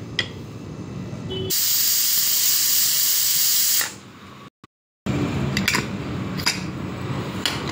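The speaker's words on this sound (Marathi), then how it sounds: "आणि कुकरच्या 3 शिट्या घ्यायच्या आहे।" A pressure cooker on a stove cooking broken-wheat porridge lets out a loud, sustained steam whistle-hiss for about two seconds, then quieter hissing and clinks follow after a brief silence.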